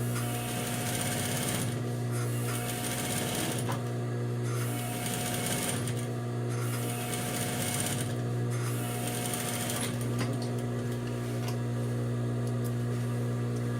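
Sewing machine running a steady continuous stitch on a half-moon fabric pouch, a close, even mechanical whir with brief pauses, no talking.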